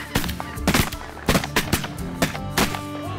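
Shotguns fire at ducks during a duck and goose hunt in a rapid ragged volley of sharp, loud blasts from several guns, some overlapping, with outdoor background between shots.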